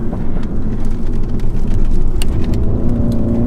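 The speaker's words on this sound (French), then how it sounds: "ce genre d'échappement qui font du bruit tout le temps" A Mini John Cooper Works 231 hp hot hatch engine drones steadily and loudly, with a low, throaty exhaust holding a constant rev, no voices.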